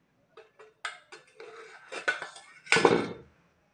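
Spoonfuls of ghee being added to wheat flour for crispy puris, a series of light spoon clinks and taps against a bowl, ending in a louder scraping clatter, close and with no talking.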